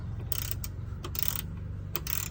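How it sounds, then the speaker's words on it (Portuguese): A ratchet wrench tightens a suspension bushing nut on a Mitsubishi L200 pickup, giving several quick clicking ratchet bursts spaced about half a second apart over a low steady hum, close and fairly quiet. "Agora eu já coloquei a bucha já no canto, pessoal, já tô catracando"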